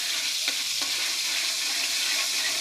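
Margarine melting in a hot pan gives a steady, close hiss and sizzle that runs the whole time with no talking, and a couple of faint clicks near the start.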